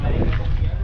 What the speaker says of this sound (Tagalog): Sobrang hangin. Napakahangin Kuya Richard.